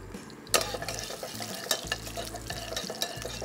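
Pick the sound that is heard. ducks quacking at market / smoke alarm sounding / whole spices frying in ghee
whole spices frying in ghee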